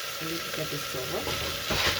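Snail curry frying in a pan, with a steady loud sizzle and crackle of hot oil throughout and stirring noises joining near the end.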